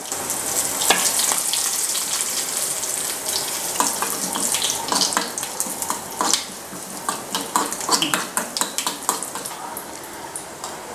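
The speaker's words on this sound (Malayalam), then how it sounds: "ഒരു തണ്ടോളം കറിവേപ്പില ഇട്ട് കൊടുക്കുന്നു" Curry leaves, dried red chillies, small onions and mustard seeds spluttering in hot oil for an ash gourd pachadi tempering: dense crackling pops and sharp spits, close and fairly loud, with no talk.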